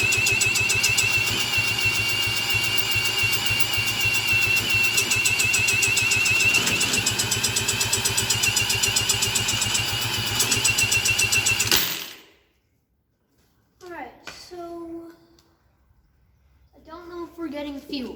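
A 1986 Honda Fourtrax ATV engine cranks over steadily and loudly for about twelve seconds with a rapid, rhythmic churn that never catches, then stops abruptly; people talk briefly afterward.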